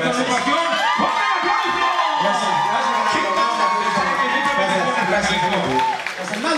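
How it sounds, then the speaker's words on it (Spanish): At a live band performance, a crowd breaks into loud, sustained applause mixed with cheering and whistles, dense and close throughout, with voices shouting through it. "¡Con el aplauso!"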